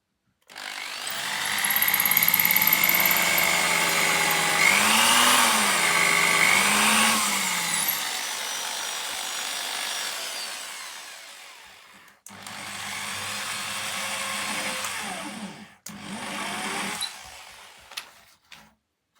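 A power drill whirs into wood during amateur home woodwork, in several sustained bursts whose pitch rises and sags as the bit bites, broken by short pauses.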